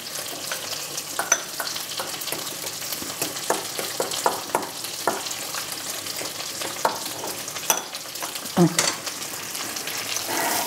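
Spaghetti carbonara ingredients stirred in a hot frying pan, a steady close sizzle and fry with scattered scraping stirs and clicks of a utensil against the pan, no voices.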